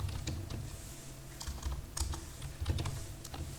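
Python code being typed on a computer keyboard: a quick irregular patter of close key clicks and taps, a few sharper strokes standing out, with no talking over it.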